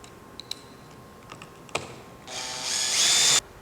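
Power tool driving two fasteners into a metal hip and ridge cap on a roof, heard as a few light clicks and taps followed by a single loud, rising whirr of about a second that cuts off sharply.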